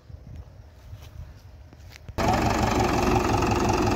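Tractor engine on a sugarcane farm, heard at a low rumble for two seconds and then suddenly much louder and steady as the microphone gets close or the engine revs, with no talk.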